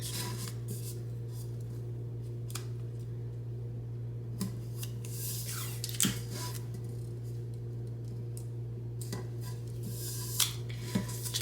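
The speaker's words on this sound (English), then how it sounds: "Then you want to take your heat tape, and you're going to tape along the seam." Heat tape pulled and pressed along the seam of a 20 oz sublimation tumbler, giving scattered sticky tearing and rubbing sounds over a steady low electrical hum, with no talking.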